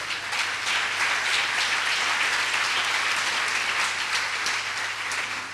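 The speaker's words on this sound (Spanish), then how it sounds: "Denle un fuerte aplauso al Señor." A church congregation gives the Lord a strong round of applause, continuous dense clapping that stays loud and even throughout, with a low steady hum underneath.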